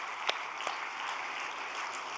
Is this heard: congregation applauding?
yes